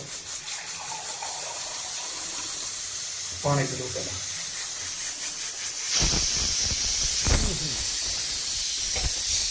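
A pressure cooker hisses steam in a steady, loud rush over several seconds, with a voice speaking briefly over it in a home kitchen.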